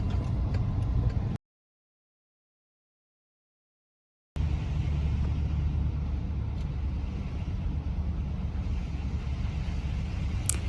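A car rolls down the Mount Washington auto road in New Hampshire with a steady low road and engine rumble inside the cabin, cut by a few seconds of total silence midway.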